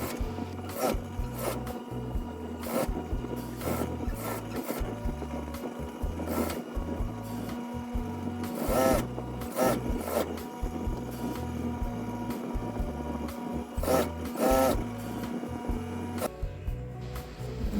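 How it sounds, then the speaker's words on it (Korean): A sewing machine stitches the seams of a quilted flower-print toddler jacket, its needle thumping in steady rhythmic runs with short pauses between, close and clear, ending as it stops. "앞여민부터 네크라인, 밑선, 소매선까지 모두 원선선을 따라 박음질 해주세요."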